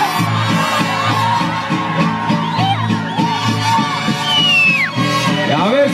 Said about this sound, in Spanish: quiero pedirles un grito, pero que se oiga hasta el último rincón de nuestro México